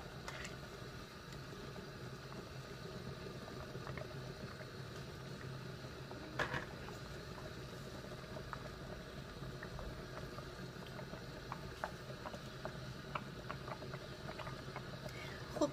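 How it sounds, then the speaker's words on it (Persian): Rice boiling in a pot at a steady boil, a continuous low simmering rush with occasional soft pops, no voices. "یک چند دقیقه میمانیمش جوش بخوره"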